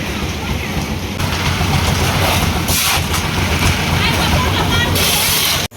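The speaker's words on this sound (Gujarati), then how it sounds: "વરસાદ આવી ગયો મિત્રો" Heavy rain pours steadily in a dense, loud hiss that stays level from start to end, with brief gusty swells.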